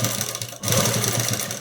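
Sewing machine stitching blouse fabric along a folded edge, a loud close mechanical whirr with a quick rhythmic chatter that briefly pauses, then runs steadily again.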